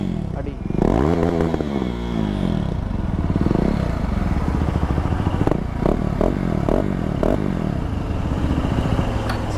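A KTM RC 390 motorcycle with its exhaust dB killer baffle removed revs loudly on the stock exhaust, the engine note rising and falling in repeated blips close by, with clattering and a voice speaking over it.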